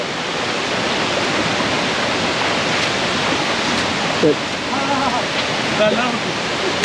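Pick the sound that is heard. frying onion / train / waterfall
waterfall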